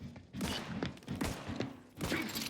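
Gunfire in a firefight in The Outer Worlds, heard as a few muffled, thumping shots spaced about every half second at moderate distance.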